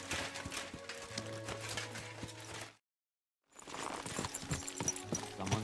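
A horse's hooves clop in an irregular rhythm at close range, broken by a short silent gap, with faint mechanical clatter and no voices.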